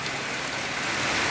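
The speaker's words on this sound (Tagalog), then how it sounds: "Napakalakas ng ulan." Heavy rain pours in a dense, steady hiss that holds at an even level for the whole moment, close and loud with no other sounds.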